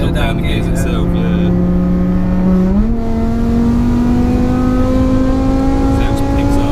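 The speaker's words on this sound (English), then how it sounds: "when you floor it, it'll drop down the gears itself" Supercharged 5.2-litre BMW E60 M5 rated around 700 bhp accelerating at full throttle, engine drone climbing steadily with a brief dip as it kicks down a gear, loud and continuous from inside the car, with someone speaking over it.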